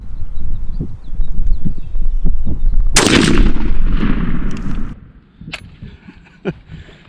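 One loud, sharp shotgun blast from a turkey gun firing a 3.5-inch Winchester Longbeard XR load, ringing out for about two seconds amid outdoor rustling and scattered clicks, followed by quieter handling noises.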